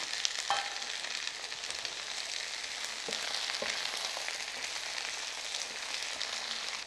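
Sliced ivy gourd (tindora) frying in a pan on a high flame with chana dal, a dense continuous sizzle with a few soft clicks of stirring, close and even throughout, with no voices.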